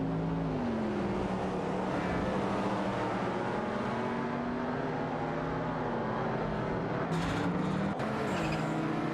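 A De Tomaso Pantera G5 and a Lamborghini Countach Alpha 5000 race in a video game, with a continuous droning engine tone shifting in pitch under a steady wash of road noise. No speech.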